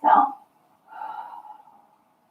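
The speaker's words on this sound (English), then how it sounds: "So deep breath in and exhale." A slow, deep breath drawn in, followed after a short pause by a longer, softer exhale during a yoga session, close and quiet with nothing else around it.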